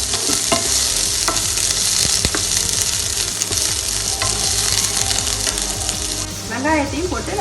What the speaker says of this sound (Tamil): அதுக்கப்புறம் பூண்டு, இந்த குடமிளகாயும் இதிலே போட்டு நல்லா வதக்கிக்கலாம்